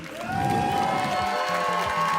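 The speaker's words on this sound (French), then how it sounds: "Donc les applaudissements, c'est cool" Audience applause rising at an anime awards ceremony, a dense wash of clapping hands filling the hall for the whole stretch, loud and steady without letup.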